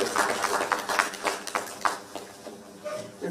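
A conference audience in Nigeria claps together again for the guest of honour, a moderately loud, uneven patter of hands that thins out and fades after a couple of seconds.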